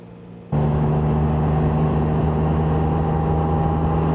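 A Can-Am Spyder F3 starts up after a short quiet stretch and holds a steady, loud, droning engine hum close by, with no voices.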